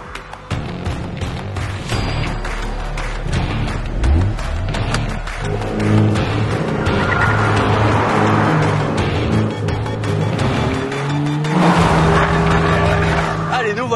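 A Renault Mégane RS Ultime on the Ouest Parisien circuit at Dreux revs up and down through gear changes, heard loud from inside the car, with a rising engine note and tyre and wind roar while a voice talks.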